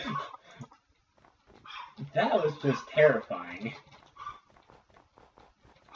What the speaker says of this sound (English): Don't mind the dog in the background